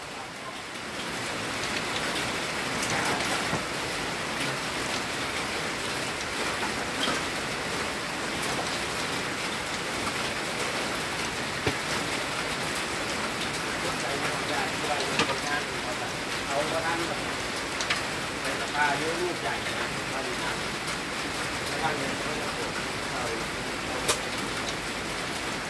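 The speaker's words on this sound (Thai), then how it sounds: "ระหว่างทางก็ฝนตกตลอดทาง" Steady rain pours down throughout on the road back from Bueng Kan, Thailand, a dense continuous hiss with occasional louder drops, constant and close by.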